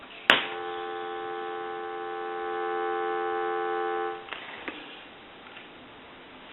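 Steady telephone dial tone from a converted A&E three-slot payphone, a continuous hum lasting about four seconds after a click, then ending with a few handset clicks and clunks.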